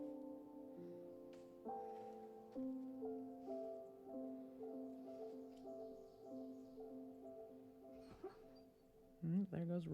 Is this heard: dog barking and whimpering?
yes